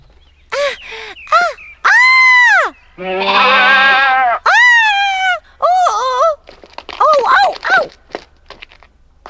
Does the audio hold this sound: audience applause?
no